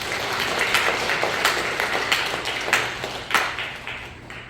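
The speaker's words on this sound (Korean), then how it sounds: "우리 성은 성가대에게 다시 한번 큰 박수 부탁드리겠습니다." During a church service, the congregation gives the choir a big round of applause, a lively patter of many hands with distinct claps poking through, tapering off toward the end.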